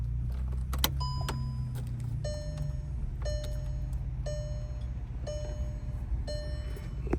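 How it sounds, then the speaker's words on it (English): A Volkswagen car's ignition is switched on, and a steady series of short electronic chime tones repeats about once a second over a low, constant cabin hum. "We need to switch this ignition on first."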